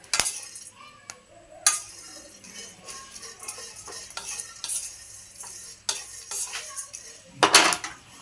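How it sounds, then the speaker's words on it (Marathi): Whole cloves dry-roast in a pan without oil, stirred with a utensil: repeated close scraping strokes and clinks against the metal pan in an uneven rhythm, with a faint crackle underneath. "कोणताही मसाला भाजताना कोरडाच भाजून घ्यायचा, तेल वगैरे वापरायचं नाही."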